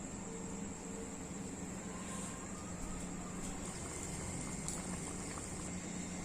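Semolina sweets fry in oil over a low gas flame, giving a steady, soft bubbling sizzle with a faint continuous hiss, quiet and unbroken, no voices.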